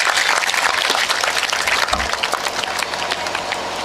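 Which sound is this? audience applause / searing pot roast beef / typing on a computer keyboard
audience applause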